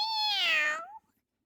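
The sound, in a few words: person imitating a cat meow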